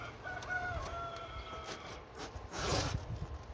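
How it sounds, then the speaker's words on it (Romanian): A rooster crows in a rural yard, a single rising crow heard at moderate distance over a steady background of ambient noise and faint rustling. "am eu un cocoș în curte, mai vin și cocoșii de la vecini"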